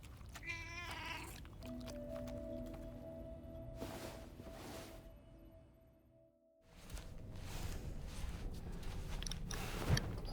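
A cat meows in the video game Death Stranding 2, the harmonic calls rising over steady ambient tones and game sound, followed by a brief quiet gap and then denser noise.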